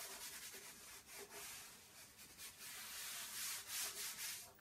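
Bare hands rub across a chalk transfer screen to smooth it down, making close, soft, repeated swishing strokes of varying intensity with no talking.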